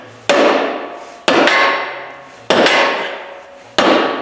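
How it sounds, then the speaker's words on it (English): Four loud, evenly spaced hammer blows ring out during finish assembly of a Fabtek line bore machine, each a sharp metallic strike with a long ringing decay, about a second apart. "then keep hammering"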